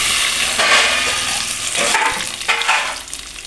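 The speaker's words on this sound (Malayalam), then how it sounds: "ഈ തേങ്ങാക്കൊത്തിൻ്റെ ആ ഒരു പൊട്ടലും ചീറ്റലൊക്കെ ഉണ്ട് കേട്ടോ" Coconut pieces crackle and sizzle in hot oil while frying for a liver roast, a loud, steady hiss with bursts of sharp popping that swell and ease across the few seconds, with no voices.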